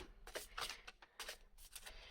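Large tarot cards being shuffled by hand, a series of quiet papery riffles and slaps in uneven bursts, close and soft with no talking.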